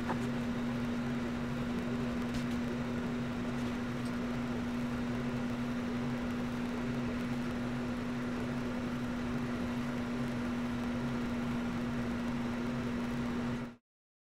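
A Longer Ray5 10W laser engraver cutting 20 mm maple, giving off a steady mechanical hum with a constant tonal whine that runs unbroken for about fourteen seconds and then stops abruptly.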